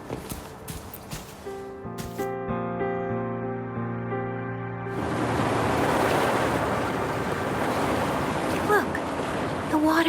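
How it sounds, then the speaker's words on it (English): In the video game Wuthering Waves, a broad rushing wash of receding water swells and holds steady, preceded by sustained tonal music-like drones, with a voice speaking faintly at times. "Look, the water is going down."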